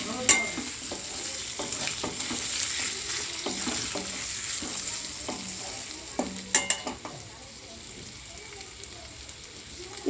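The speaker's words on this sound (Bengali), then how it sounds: "এভাবে 1 মিনিট আমি ভেজে নেব" Mutton sizzling in a hot pan while being stirred, with a steady crackling fry broken by repeated scraping strokes of a spoon against the pan, close and fairly loud.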